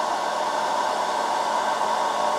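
A hair dryer runs at maximum, 1200 watts, powered from a portable power station, giving a steady loud whooshing roar with a constant motor whine and no variation throughout.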